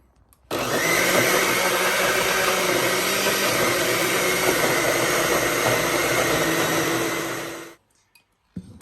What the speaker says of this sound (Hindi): इनको हम एक ब्लेंडर में डाल के इसकी बना लेंगे प्यूरी